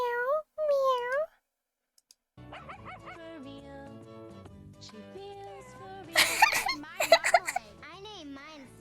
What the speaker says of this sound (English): Did you hear it? It was like meow, meow.